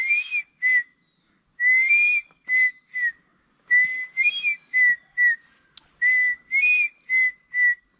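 A man whistles an imitation of the Indian pitta's call, clear two-note whistled phrases repeated in quick rhythmic groups with short pauses, close and alone.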